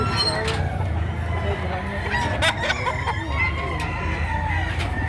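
Roosters crow repeatedly at a Saturday chicken market in Lipa City, Batangas, several loud calls rising over a steady crowd murmur and clucking fowl nearby.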